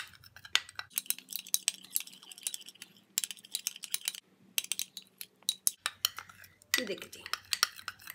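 A spoon clinks and scrapes in a bowl while glycerin, vitamin E oil and other mask ingredients are mixed, making quick irregular taps and stirring sounds, with someone speaking briefly over them.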